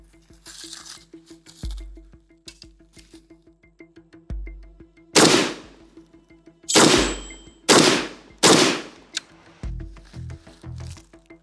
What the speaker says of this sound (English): now let's see what's gonna happen when we're gonna shoot the muzzle brake that has 360 holes everywhere